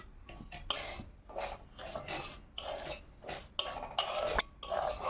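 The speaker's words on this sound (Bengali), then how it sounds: "সুজি দিয়ে দুধ পুলি বানানোর জন্য আমি সুজিটাকে ভেজে নিব আগে।" Semolina dry-roasting in a pan while being stirred: a close, busy run of metal scraping and clinking of a utensil against the pan, quick and uneven, with no voices.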